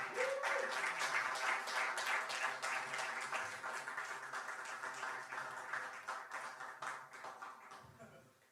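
At a youth worship service, a congregation claps together to welcome a newcomer, the applause dense at first and gradually fading away, with a brief voice at the start.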